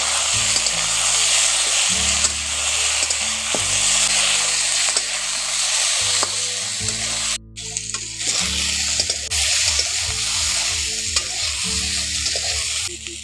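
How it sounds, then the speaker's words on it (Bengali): Moringa drumstick pieces sizzle in hot oil with onions while a spoon stirs the pan, giving a loud, continuous frying hiss broken by repeated scraping strokes. "এখন পেঁয়াজের সঙ্গে ডাঁটাগুলো একটু নাড়াচাড়া করে ভেজে নেব"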